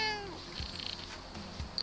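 A cat meows close by, with a clear, drawn-out call opening a short stretch of household noise and faint rustling, recorded on a Vivitar 830x HD camcorder mounted on a wall.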